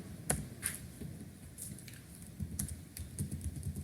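HTML code being typed on a computer keyboard while setting up a heading in a web page body, a steady run of close, light key clicks with a faint background hum and no talking.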